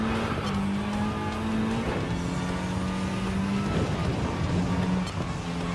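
Race cars in Gran Turismo 7, a continuous loud engine drone with rising and shifting gear pitches, several cars roaring together at close range with faint tire noise, no talking.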